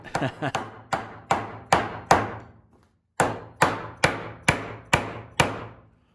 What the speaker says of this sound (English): Time for a bigger hammer.